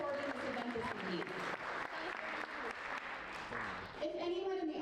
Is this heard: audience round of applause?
yes